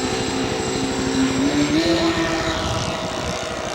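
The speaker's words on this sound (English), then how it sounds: "the Twin Otter is coming in for a full stop landing" A radio-controlled scale model Twin Otter aircraft comes in to land at a scale aircraft show, its propeller engine droning steadily and fairly loud with a gliding pitch change, sounding alone without talk.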